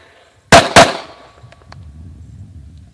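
Two sharp, loud pistol shots fired in quick succession at an outdoor shooting range, each cracking out and decaying into a faint echo and low rumble.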